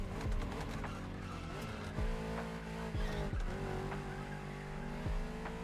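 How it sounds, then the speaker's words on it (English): A car engine in the racing video game The Crew Motorfest roars steadily throughout, its pitch rising and dropping sharply with several gear shifts, mixed with brief tire squeals, loud and up front with no talking. "the sound that the car's engine makes."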